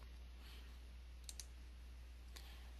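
Two quick mouse clicks close together near the middle, then a third lone click, all faint and dry against a quiet low hum while working in EasyPower electrical design software.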